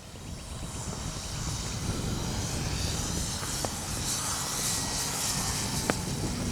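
A Hangar 9 Valiant 20cc RC airplane's gas engine drones steadily in flight outdoors, a continuous buzzing hum at moderate distance with slight swells in pitch and a couple of faint clicks.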